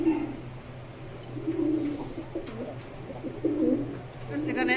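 Silver Lakha pigeons coo in soft repeated rolling phrases close by, several low burbling calls overlapping with a few brief chirps near the end.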